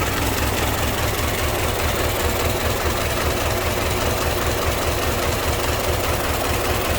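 A 1926 Ford Model T pickup with a stake bed box idles on its inline four-cylinder engine with a single carburetor, a steady close low rumble with an even knocking pulse throughout.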